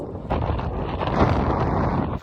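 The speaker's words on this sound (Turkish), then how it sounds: "çok rüzgar var" Strong wind roars and buffets loudly and continuously through the open sunroof of a moving Mercedes CLA200 AMG, a rushing blast of air close to the microphone.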